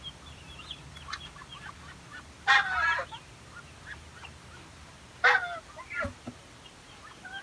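Two loud, brief bursts of honking calls from Muscovy ducks and geese stand out against a quiet outdoor background, with a few softer calls scattered between them.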